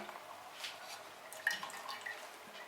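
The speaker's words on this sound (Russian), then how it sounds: "Отжимаем из них сироп обратно в кастрюлю." Syrup squeezed from elderflowers drips and trickles faintly into a pot, a few soft irregular drops over a quiet background.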